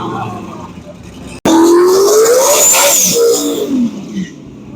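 Turbocharged 388 LS drag car running C16 fuel launches abruptly into a loud, rising engine roar with a climbing pitch and audible tire spin, close and powerful over a crowd murmur.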